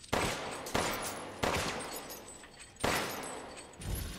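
Gunshots from a player shooting enemies in Resident Evil Village, loud close bursts about every second with echoing decays between them.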